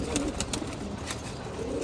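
Pigeons coo softly in a home loft as they are given vitamin water, a steady low murmuring that runs continuously with faint higher chirps on top.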